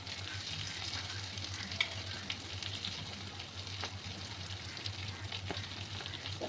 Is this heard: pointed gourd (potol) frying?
yes